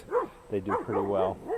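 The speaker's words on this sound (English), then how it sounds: "So sorry about the dog barking like that," Several short dog barks and yips come in quick bursts close by, landing between and over a few words of a person talking outdoors in a garden.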